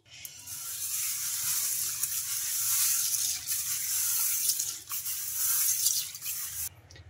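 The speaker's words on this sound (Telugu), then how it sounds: "ఈ పెసలను ఒక 2 సార్లు శుభ్రంగా వాష్ చేసుకోవాలి." Mung beans being rinsed in a bowl of water, a steady close sloshing and trickling wash that runs without pause for several seconds.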